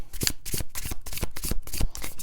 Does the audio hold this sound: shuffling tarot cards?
yes